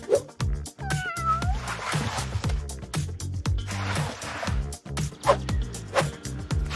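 A cat meows repeatedly, a run of short, insistent cries close up with barely a pause between them.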